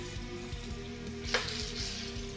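Frozen pork sizzles and fries steadily in a hot wok, a constant close hiss with a brief louder crackle partway through.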